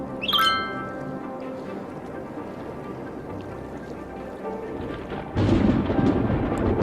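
A low, rumbling video game thunderstorm roar from Cities: Skylines with steady rain-like noise throughout, swelling louder near the end, and a brief high chime at the start.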